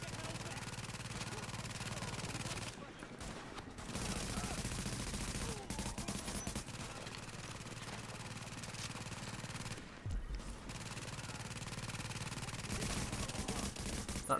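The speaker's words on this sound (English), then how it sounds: "That turret's quite good actually" Sustained rapid automatic gunfire from an automated turret in The Division, loud and continuous over several seconds with brief pauses between long bursts.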